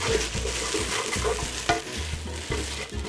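Tomato paste is stirred as it cooks in a pan, with loud, close, rhythmic spoon scraping in repeated strokes over a continuous frying sizzle.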